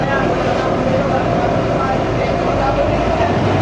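A steady, loud engine drone runs throughout without a break, a boat motor chugging up close on the Pacific Ocean.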